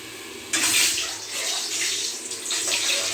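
Kitchen tap water starts suddenly and runs steadily for hand washing, a close, bright splashing stream with slight changes as hands move under it, heard alone without talk.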